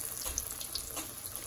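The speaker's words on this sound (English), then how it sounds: "Oh, look at that sizzle right there." Flounder fillets sizzle in a frying pan with a steady, faint hiss and light crackle, continuous throughout the short moment with no voices.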